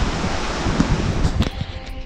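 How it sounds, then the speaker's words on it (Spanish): Ocean waves wash steadily against the hull below the deck of the world's largest cruise ship, a broad, continuous roar with heavy wind buffeting the microphone and no talking. "Me voy a callar para que escuchen el mar."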